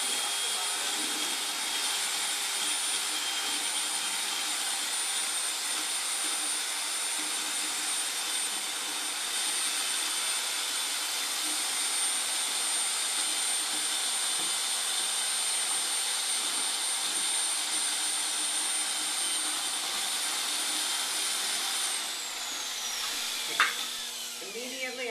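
An electric mixer churning ceramic glaze in a bucket gives a loud, steady high-pitched motor whine with a constant drone, winding down near the end with a brief clatter.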